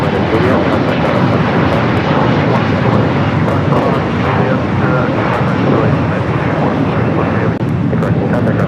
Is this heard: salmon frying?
no